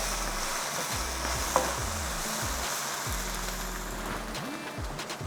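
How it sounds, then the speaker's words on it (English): Okra, charred onions and a seed-and-chili mixture are stirred in a hot stir-fry pan: a continuous low sizzle and scraping, one faint clink, and a steady low hum beneath. "Give that a stir."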